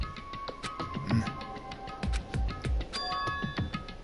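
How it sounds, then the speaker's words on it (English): A doorbell chimes repeatedly in the Danganronpa Trigger Happy Havoc video game, bright ding-dong tones sounding several times over a busy backdrop of game music and effects. "Did I hear the doorbell?"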